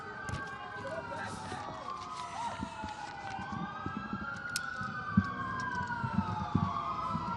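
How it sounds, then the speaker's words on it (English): Wailing sirens rise and fall continuously, moderately loud and somewhat distant, with crowd noise and scattered voices underneath, at a labor rally protesting immigration raids in California. "Yeah, sirens."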